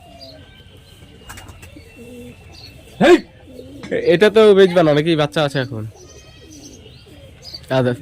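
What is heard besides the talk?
pigeons cooing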